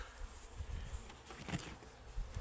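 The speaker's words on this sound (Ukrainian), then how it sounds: "Так, тут є бджоли, є, є, є." A dense, steady buzz of many bees humming close by in a hive, continuous with small swells in loudness and no talking.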